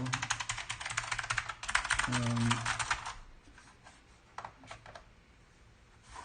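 Rapid clicky keystrokes on a vintage computer keyboard in bursts of typing, fairly close, with a low hum and faint background noise, then quieter scattered taps.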